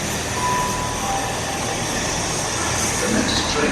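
A train rumbles past at Exeter station with a steady, broad roar of rolling wagons, mid-distance and continuous, with a faint tone near the start.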